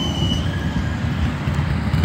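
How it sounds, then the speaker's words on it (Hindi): A tram rolls along a busy city road, a loud continuous low rumble with faint wheel squeal and no speech over it. "ट्राम।"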